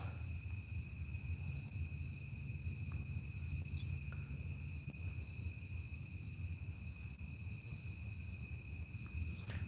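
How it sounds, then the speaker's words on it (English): Crickets chirp in a continuous, even drone with steady high trilling over a low rumble during an evening walk, with no voices. "Crickets are pretty noisy now."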